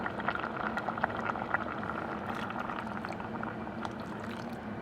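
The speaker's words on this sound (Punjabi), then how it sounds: "ਪਾਣੀ ਪਾ ਦਿੰਨੇ ਥੋੜਾ ਜਿਹਾ ਹੋਰ" Water splashes and gurgles steadily into a pressure cooker of broccoli saag, a continuous bubbling liquid sound with faint knocks throughout.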